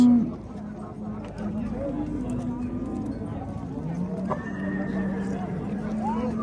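A horse whinnies several times over steady hoof clip-clops at the Nookat livestock bazaar, with voices murmuring nearby.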